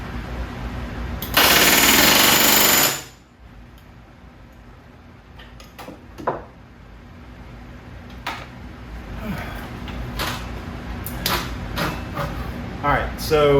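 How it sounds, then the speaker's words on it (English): A pneumatic rivet gun bucks rivets on the horizontal stabilizer of a Van's RV-14 kit airplane: one loud rattling blast of about a second and a half, followed by quieter scattered clicks and taps of shop handling. "I've finally found the optimal pressure setting in the rivet gun, which is allowing me to buck each rivet with a single, kind of well-timed blast from the gun"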